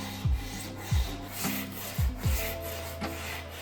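Old hand plane sole rubbed on abrasive grits during flattening, five rasping strokes in an uneven rhythm, each a short scrape with a low sweeping tail.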